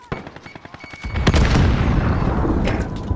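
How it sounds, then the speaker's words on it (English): A grenade goes off in Call of Duty Modern Warfare multiplayer on a Hardpoint match: a few sharp gunshot-like cracks, then a loud heavy blast at about one second whose rumbling roar lingers to the end. "Grenade out!"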